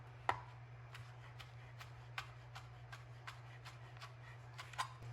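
A knife slicing through rolled basil leaves on a cutting board, faint quick taps in a fairly even rhythm over a low steady hum, with no speech.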